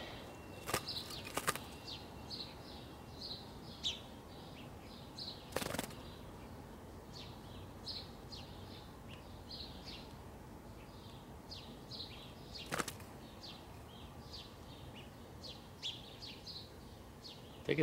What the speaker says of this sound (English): I think it's a young sparrow.